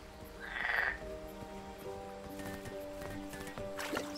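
A frog in the King's Quest (2015) video game gives a single loud, buzzy croak near the start, followed by quieter ambient game sounds with faint chirps and soft clicks.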